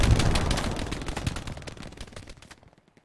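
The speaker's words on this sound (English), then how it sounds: "Some suppressive fire there." Sustained bursts of rapid suppressive gunfire in a multiplayer shooter game, loud and close, rattling continuously before tapering off and cutting to silence after about two and a half seconds.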